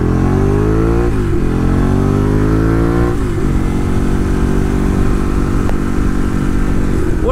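Ducati 1098 Streetfighter motorcycle engine revving while riding, loud and close, rising through the gears with two sharp shifts before settling into a steady, strong drone.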